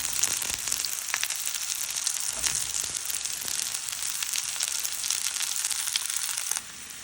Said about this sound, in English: sauteing some red onions we had left over